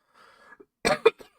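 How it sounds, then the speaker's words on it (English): A short burst of coughing, two or three harsh coughs close to the mic after a faint murmur. "Stupid cough."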